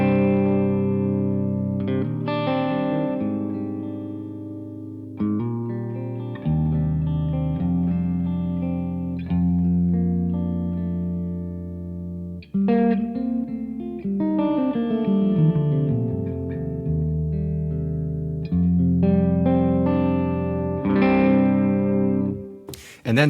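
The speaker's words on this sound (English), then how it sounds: "So this is the guitar with the buffer into the amp." Electric guitar played clean and natural through a buffer into an amp, with strummed chords and single-note lines ringing out continuously, no talking.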